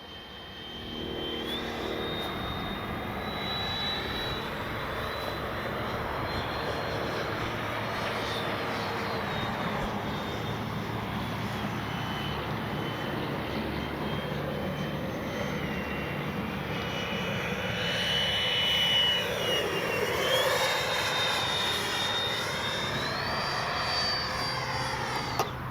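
A Freewing F-22 90mm RC jet flying overhead, with a continuous turbine whine and roar that swells and shifts in pitch as it passes, loudest near the end.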